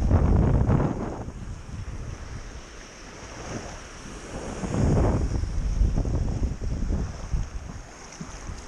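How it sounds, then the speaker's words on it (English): Wind gusts buffet the microphone outdoors during a metal detecting hunt, a rough rumbling roar that surges loudly at the start and again midway, then eases, with no talking. "Starting to breeze up a little bit."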